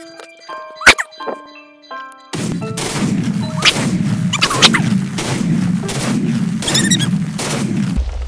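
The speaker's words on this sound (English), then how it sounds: "Oh my word, the firework TNT is still going!" Firework TNT blasts in Minecraft: after a quieter opening with a few pops, a dense run of repeated booms and crackling explosions goes on continuously, loud and close.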